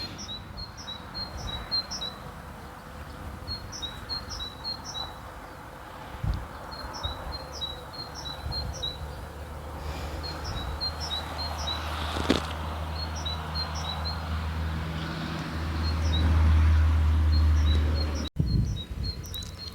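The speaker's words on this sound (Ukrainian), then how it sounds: "пташки співають" Small birds chirp and tweet in repeated short phrases throughout, moderately distant, over a steady outdoor background with occasional low rumbles and a brief thump.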